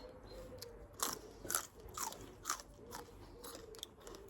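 Crisp bites and crunchy chewing of sweet fresh beans, close to the ear, with about seven sharp crunches at a fairly regular pace against quiet outdoor background.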